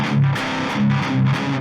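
Electric guitar played through an amp simulator plugin with a mid-gain tone, a few loud, close, sustained distorted notes with a rhythmic swell, played alone.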